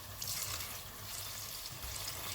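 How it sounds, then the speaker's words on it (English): Water poured from an emptied tomato can into a pot of simmering tomato sauce for chicken parmesan, a steady close splashing and trickle lasting about two seconds with no talking. "I filled it up with some water and I'm going to pour that in."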